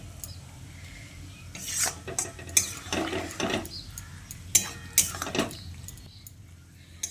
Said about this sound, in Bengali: জলটা দিয়ে আবারও সব কিছু একসঙ্গে ভালো করে মিশিয়ে নিচ্ছি